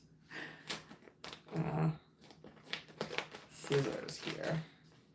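Fiskars scissors snip through packaging in a few short crisp cuts with crinkling plastic, close by, while someone talks over them.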